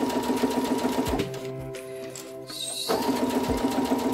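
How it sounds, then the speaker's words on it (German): A sewing machine stitching oilcloth for a small treat or phone pouch, running in a steady fast whir, pausing briefly in the middle with some mechanical clicks, then resuming at full speed, close and loud. "Geht wunderbar zu nähen, das Wachstuch."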